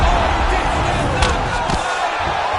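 A boxing crowd at a heavyweight fight roars in a dense, steady wall of cheering and shouting, loud and close throughout with a brief sharper burst partway through.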